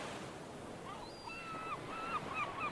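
Ocean waves from the video game Ever17 wash in a continuous broad rush, with faint gliding bird-like cries above, steady and moderately loud without talk.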